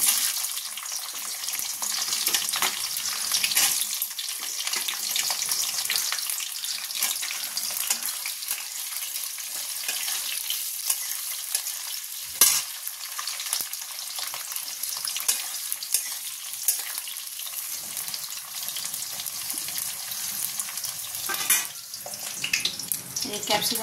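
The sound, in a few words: capsicum lightly frying in hot oil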